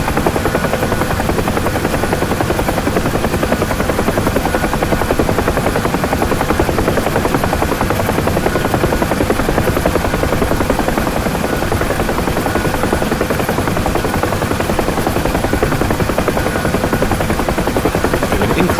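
A UH-1 Huey hover taxiing in the DCS flight simulator makes a loud, constant rotor and turbine drone with an even, fast blade chop, and no one speaks over it.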